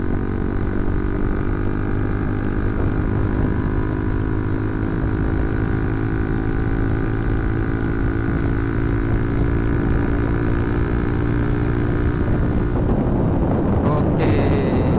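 A motorcycle engine drones steadily with a low, rumbling hum, then revs up sharply near the end, loud and close.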